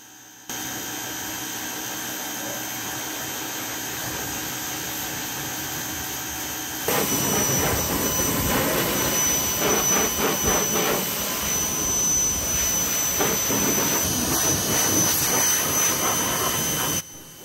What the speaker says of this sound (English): give it an initial rinse, take off that first layer of dirt, anything sitting on the vehicle